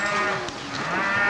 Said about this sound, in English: Listen to the cows bellowing.